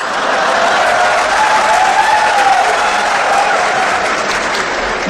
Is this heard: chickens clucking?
no